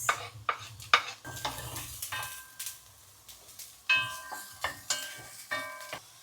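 Carrots stir-frying with onion in oil for qozon kabob: a rhythmic series of utensil scrapes and clinks against the pan over a light sizzle, close by, with no speech.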